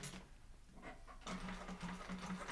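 A sewing machine top stitches through a fabric side panel, a close rhythmic mechanical whir that starts, pauses, then runs steadily in short bursts.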